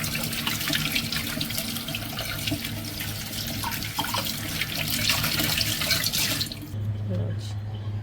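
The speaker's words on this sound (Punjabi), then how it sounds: "ਇਹ ਜਿਹੜੇ ਆਪਾਂ ਲਏ ਆ ਗਲੋ ਦੇ ਪੱਤੇ ਇਹਨਾਂ ਨੂੰ ਆਪਾਂ ਧੋ ਲੈਨੇ ਆ" Running water splashes steadily from a tap into a sink as giloy leaves are rinsed beneath it; the flow stops near the end.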